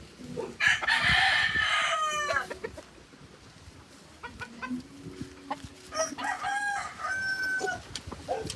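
Gamefowl roosters at a breeding farm crow and cluck: a loud, clear crow opens, then scattered clucks and a second, fainter crow answering later, with soft background rustle.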